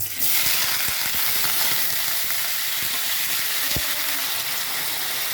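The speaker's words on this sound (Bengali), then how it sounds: "তেল গরম হয়ে গেছে, আমি আলু দিচ্ছি" Potatoes with onion and chilli hit hot white oil in a kadai, a loud dense sizzle right away that stays steady throughout, with occasional clicks and knocks from stirring, close and without talk.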